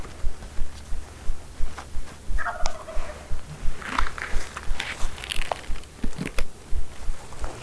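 Outdoor scene with rustling and crunching footsteps on public hunting land; a wild turkey gobble breaks out partway through, fairly distant, among other faint bird sounds.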